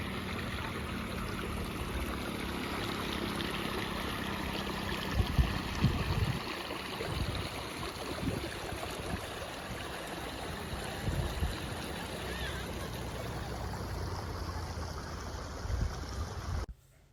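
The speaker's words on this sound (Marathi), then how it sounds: "मंदिराच्याच शेजारी इथे छोटासा असा ओढा वाहतोय पाण्याचा।" A small stream flows beside a hilltop temple, a continuous soft rushing and trickling of water with steady level throughout, heard alone outdoors with no talk.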